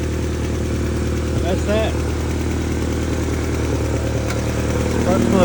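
A Honda Civic engine idles steadily close by after a spark plug swap, a continuous low mechanical hum running throughout while a person speaks briefly over it.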